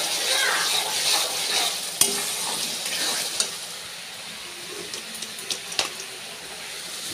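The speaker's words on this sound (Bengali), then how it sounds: "এবার চিকেনটা দিয়ে দেবো।" Chicken pieces sizzle and fry in a pan with garlic and ginger, a steady close hiss with occasional stirring clatters and light metallic knocks.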